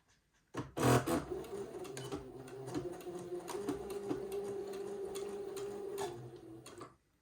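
A sewing machine stitches fabric for a child's button-on suit, running in a single steady burst of quick mechanical ticking and whirring for several seconds, starting with a louder clunk and stopping abruptly.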